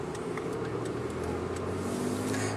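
Inside a moving car, a steady low engine and road rumble hums continuously, with faint ticking on top.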